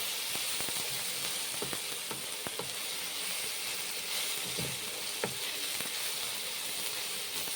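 Mung and urad lentil fritters (bora) frying in a wok, a steady dense sizzle close up with scattered sharp ticks and pops, and a few scraping stirs near the middle.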